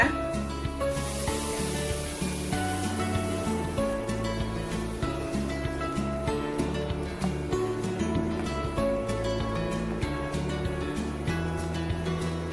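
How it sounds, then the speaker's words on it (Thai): About 100 grams of spicy green curry paste fries in a pan with a continuous bright sizzling hiss, close and steady throughout, layered over soft background music. "เราก็จะผัด พริกแกงให้เขาหอมแล้วก็แตกมันนะคะ"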